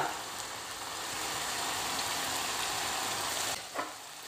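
A chicken filling for a puff pastry cooks in a pan with vermicelli added. A loud, steady hiss of sizzling runs through, then a brief scrape and stir near the end.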